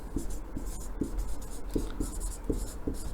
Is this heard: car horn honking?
no